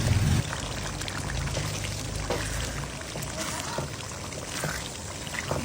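Minced keema frying in a pan on a home stove, a steady hissing sizzle held throughout with a brief louder splash at the very start.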